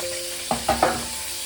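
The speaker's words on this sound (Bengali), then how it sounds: "এবার আমি চিংড়িটা ভেজে তুলে নেব।" Shrimp frying in a pan while a Schezwan fried rice dish is being cooked, a soft steady sizzle broken by three quick stirring scrapes near the middle, with a faint background hum.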